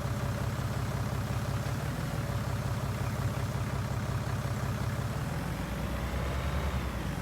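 A tractor engine in Farming Simulator 19 drones steadily at low revs, a constant, even rumble with a slight shift in pitch partway through and no talking.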